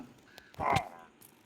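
A single harsh crow caw from a video game rings out, loud and close, standing alone against a faint background hum.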